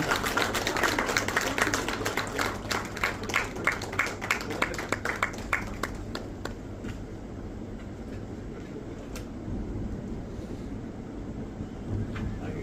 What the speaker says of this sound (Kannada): ದಯವಿಟ್ಟು ಚಪ್ಪಾಳೆ ಮೂಲಕ ಅವ್ರನ್ನ ಗೌರವಿಸೋಣ